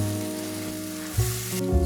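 Tomato puree sizzles and fries in a pan with a steady close hiss, under a low droning hum, swelling briefly near the end.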